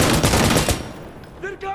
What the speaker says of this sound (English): Listen to the booms and the bops and the ba-da-da-da-da-da-da